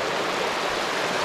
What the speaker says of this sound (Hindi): और ये आबशार बहुत ठंडा पानी है